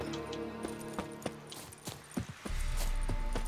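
Horse hooves clip-clop in a steady, uneven rhythm as a mount approaches in The Witcher 3: Wild Hunt, moderately loud over a sustained musical and ambient game backdrop.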